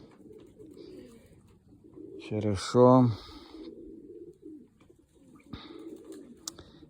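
Racing pigeons give a short burst of cooing at a loft, fairly close and moderately loud, with a person speaking briefly nearby and quieter background sounds around it.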